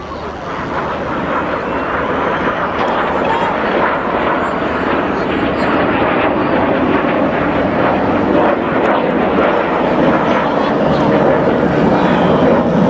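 RAF Red Arrows jets fly a display at Peterhead, their engines a loud, broad roar that swells over thirteen seconds beneath an announcer's commentary.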